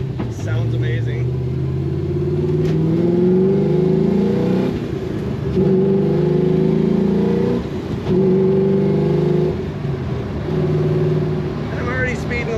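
A 1967 Pontiac Firebird Pro Touring cruising in sixth gear at low revs, a deep, steady engine drone with road rumble inside the cabin, its pitch rising and easing slightly, with someone talking over it.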